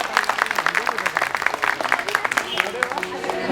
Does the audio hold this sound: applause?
yes